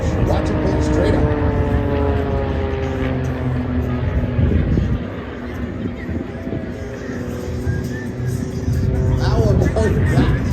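Propeller aerobatic airplane pulling straight up at an airshow over a crowded waterfront, its steady engine drone loud and continuous throughout, with a commentator talking over the PA.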